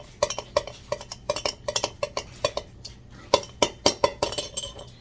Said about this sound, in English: I'm stirring it up, letting it get all kinds of dissolved and mixed in